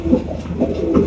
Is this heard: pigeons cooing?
yes